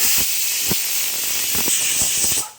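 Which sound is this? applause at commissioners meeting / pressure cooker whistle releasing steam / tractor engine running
pressure cooker whistle releasing steam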